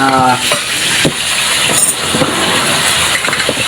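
Tuna sizzles in butter in a pan with occasional scraping and stirring clatter, a steady crackling hiss close by.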